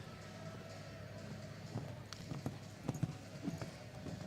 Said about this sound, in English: a 10-year-old Holsteiner gelding by Casalito.